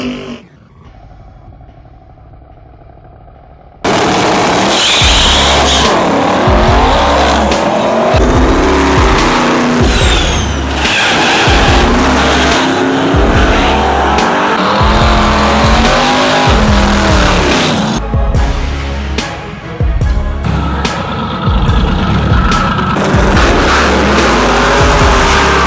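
Drag racing cars with loud engines blast down the strip at a Michigan track, the roar rising sharply after a quiet start and continuing as several runs pass, with tire squeal and no talk.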